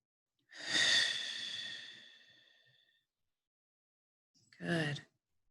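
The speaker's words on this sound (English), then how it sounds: "The in-breath through the heart and the exhale out through the heart." A slow meditative breath: one long, soft airy exhale fading over about two seconds, then a pause and a short, close inhale, with no talking.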